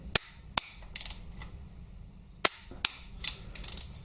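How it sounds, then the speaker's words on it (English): A torque wrench on the primary chain shoe bolt nut of a Harley Twin Cam 88ci, giving sharp metallic clicks in two close pairs amid quieter rattling and handling noise. "I'm just going to torque up the shoe bolt nut"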